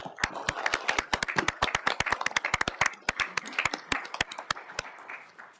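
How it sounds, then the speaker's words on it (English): A room of people at a Rock County board meeting give a round of applause: scattered, irregular hand claps, moderately close, keeping on steadily for several seconds. "let's give her a round of applause"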